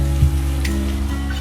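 Tomato masala sizzling in a pan, with a steady close frying hiss, a low hum underneath and a brief scrape of stirring.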